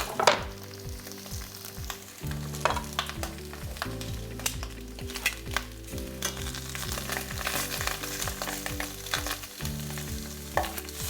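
Sausages browning in a pan as the start of a porcini mushroom risotto, a bright steady sizzle with intermittent scrapes and clatters of a utensil being moved and flipped, close up with no talk.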